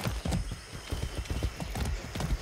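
Horse hooves clip-clop at a steady trot during riding in the video game Far Cry 6, a close, rhythmic run of quick thuds with no clear speech.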